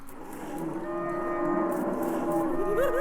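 A cow moos in the video game West of Loathing, one drawn-out, wavering low moo that rises near the end, close and clear over quiet background music.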